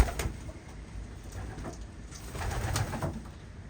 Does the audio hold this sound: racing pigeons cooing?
yes